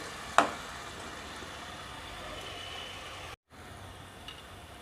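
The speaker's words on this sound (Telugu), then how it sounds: "యాడ్ చేసుకుని ఆయిల్ సపరేట్ అయ్యేంత వరకు మనం దీన్ని లో ఫ్లేమ్లో ఫ్రై చేసుకోవాలి" Tamarind pulp frying in oil over a low flame, a steady soft hiss running throughout with one sharp clink near the start and a brief dropout before the sizzle resumes.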